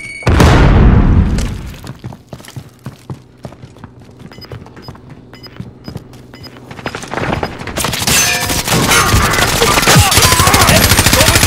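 In the Call of Duty Warzone video game, a loud grenade blast opens the clip, scattered gunshots follow, and heavy rapid gunfire returns at the end.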